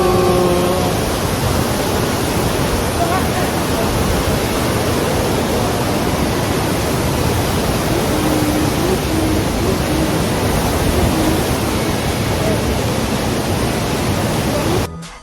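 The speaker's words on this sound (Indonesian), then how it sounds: "Sekarang kita ada di Air terjun Grojogan Sewu." Grojogan Sewu waterfall, about 81 meters tall, roars as a loud, dense, unbroken rush of falling water close by, steady from start to finish.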